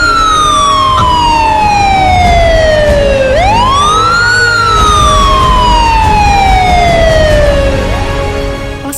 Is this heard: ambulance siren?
yes